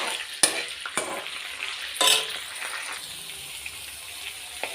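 Onions fry in a tempering of lentils, cumin, mustard seeds, dried red chillies, curry leaves and green chillies, a steady close sizzle broken by a few sharp scrapes of a spoon against the pan, no voices.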